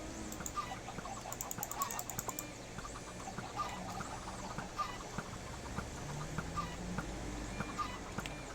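Minecraft chickens cluck and bawk repeatedly around a village farm, with short clucks scattered across the stretch amid soft game background noise and no talking.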